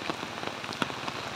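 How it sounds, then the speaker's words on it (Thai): Rain in Phayao, Thailand patters steadily on a hard surface close by, with scattered louder drops striking through the constant hiss. "ตอนนี้ฝนก็มาแรงแล้วนะคะ"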